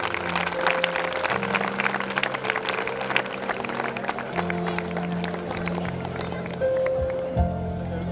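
Audience applause at a school event held with Allen Classes at Sri Kanwartara School: continuous crowd clapping over a low musical drone, with a brief voice near the end.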